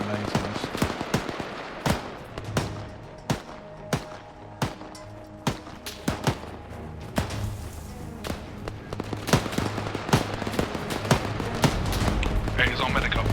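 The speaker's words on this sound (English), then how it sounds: "Some grenades on us." Grenade explosions and gunfire in the military shooter ARMA 3 on a winter Altis map: repeated sharp, loud bangs at irregular intervals, some near and some distant, with crackling shots and people talking in between.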